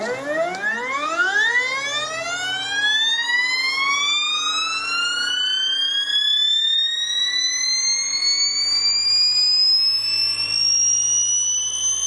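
A stepper motor run by an SMD-4.2 driver at 48 volts, full-step mode and 2.8 amps per phase, spins up toward about 4,500 RPM. Its steady, loud tonal whine climbs sharply in pitch, then keeps rising slowly with no talk.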